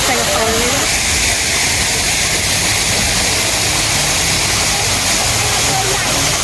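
Indoor waterfall inside a Dubai- and Saudi-style camel-themed cafe and restaurant in Bangkok, a steady loud rushing wash of falling water that fills the whole stretch without pause.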